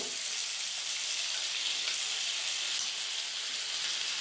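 A ground paste of ginger, cumin, peppercorns and green chili sizzles in a pan for a milk-and-pointed-gourd dish, a soft, even hiss with faint steam and no talking.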